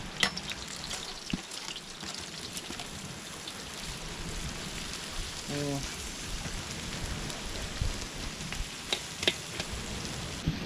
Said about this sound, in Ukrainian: вкидаємо нашу цибульку і піджарюємо її майже до, до такого золотистого